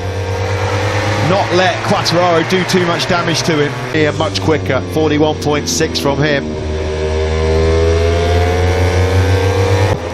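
A Suzuki MotoGP bike races at Catalunya, heard from the onboard camera. The engine screams loud and close through rapid shifts and revving, with a commentator talking over it the whole time.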